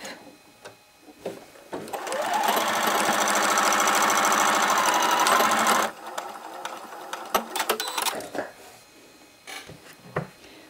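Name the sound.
sewing machine stitching a fabric face mask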